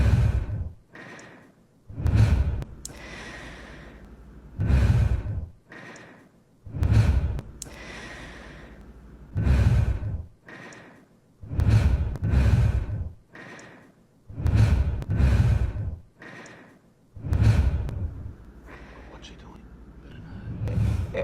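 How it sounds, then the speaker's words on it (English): Heavy breathing from a woman: repeated loud gasps and sighing exhalations come in bursts about every two seconds, close to the microphone and separated by brief quiet gaps. "why are you breathing like that?"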